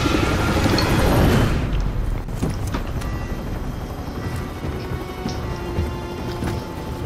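Helicopter in a war-zone video game, a steady loud whooshing rotor roar with a dense, rain-like rushing texture that eases slightly after a louder opening swell, with no talking.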